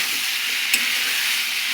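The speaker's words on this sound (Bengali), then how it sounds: "ভালো করে দেখো আমি নাড়াচাড়াটা করে নিচ্ছি" Papaya curry sizzles steadily in a pan while being stirred, a close, even hiss with one faint scrape.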